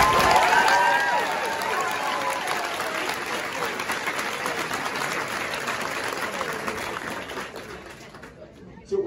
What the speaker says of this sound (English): So let's give the drill sergeants a round of applause.